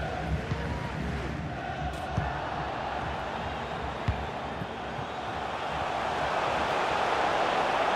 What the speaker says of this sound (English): just listen to these fans. They're urging their team to score here